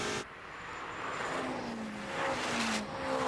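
A Ferrari SF90 and a BMW of over 1000 hp launch in a drag race, heard as a rising engine roar from a distance that swells and holds through the few seconds.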